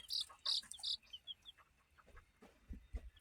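A chicken gives a few soft, high clucks up close while offered scrambled eggs, followed by quieter rustling and light thumps.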